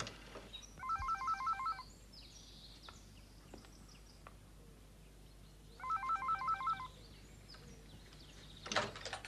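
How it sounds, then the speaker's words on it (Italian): A telephone rings twice in a quiet interior, each ring a burst of rapid electronic trills with a long pause between, followed by a faint click near the end. "Telefoniamo a Holvein e chiediamolo a lui"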